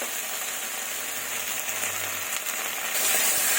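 A ground spice paste of cumin, ginger, onion and garlic sizzles in a hot pan for a puti, baila and koi fish chorchori, a steady frying hiss that grows a little louder near the end, with no talking.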